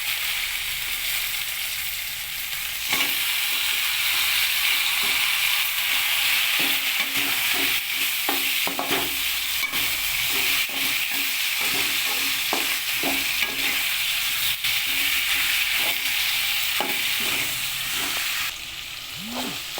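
Chicken pieces frying in a pan, a steady loud sizzle running throughout, broken by frequent scraping knocks of a spoon stirring them, with no talk.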